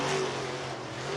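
Sprint race cars at Southern Oregon Speedway on a dirt track during a Western Sprint Tour race, heard as a brief, steady engine roar with a faint rising whine and no talk.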